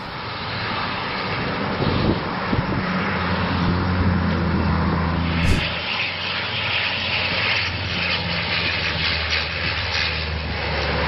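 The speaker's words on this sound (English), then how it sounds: "This firefighting plane is working on extinguishing a forest fire in Croatia, executing impressive maneuvers at extremely low altitudes." A firefighting plane's engine drones steadily and loudly as it flies at very low altitude over a forest fire in Croatia, with no voices.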